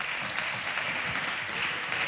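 Applause in a parliament chamber, a dense continuous clapping from many hands heard at some distance, steady for the whole stretch with faint voices mixed in.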